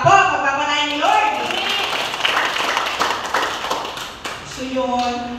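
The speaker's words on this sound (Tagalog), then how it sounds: "Ang mga pumapalakpak po, magpapalain ni Lord." A church congregation claps together, a steady patter of many hands beneath a speaker's voice, set between stretches of sustained music.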